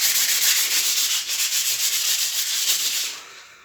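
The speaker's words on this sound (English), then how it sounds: "if you rub it down with a bit of sandpaper" Sandpaper rubbing down a bronze-coloured coated wire coat hanger, a close, loud, continuous scratchy rasp with quick back-and-forth strokes, fading at the end, with no talking.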